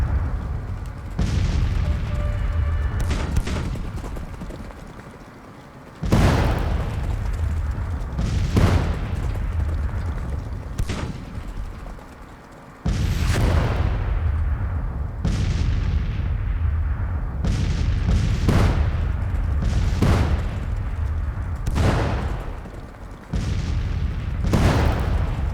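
Artillery fire booms across a Grand Tactician: Civil War battlefield, a series of about nine heavy cannon blasts at irregular intervals, each a sharp crack that rolls into a long low rumble under continuous battle noise.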